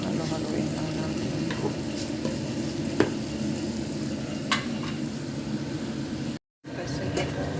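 Food sizzling steadily in a hot pan while it is stirred, a continuous close frying hiss with a few light scrapes and clicks, briefly cut to silence near the end.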